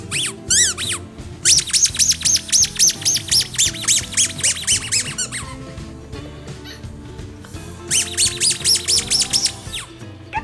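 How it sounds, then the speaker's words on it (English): Repeated high-pitched squeaks from a spiky textured dog squeak toy ball bought at Costco, coming in rapid rhythmic bursts loud and close, with a pause in the middle before another fast series of squeaks. "It's a squeak toy ball, and look at the textures on this ball."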